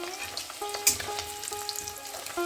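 Steady close sizzle of eggs and potatoes frying in oil, broken by a single bright clink of a spatula against the pan and light stirring sounds, with no voices.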